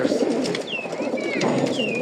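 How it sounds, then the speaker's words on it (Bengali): Racing pigeons at a pigeon sale coo softly and continuously at close range, with faint background murmur. "এই যে কবুতর দেখেন"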